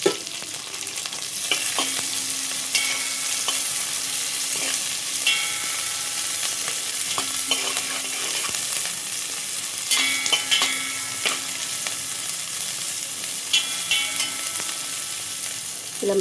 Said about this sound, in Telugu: కరివేపాకు వేగుతున్నప్పుడు ఆనియన్స్ వేసుకున్నాము.